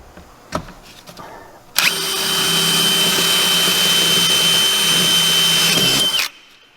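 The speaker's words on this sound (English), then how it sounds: "Drill new holes." A power drill whines loudly and steadily for about four seconds, close by, drilling new holes for a Ski-Doo 850 Turbo nose cone replacement, then cuts off abruptly after a couple of quiet clicks beforehand.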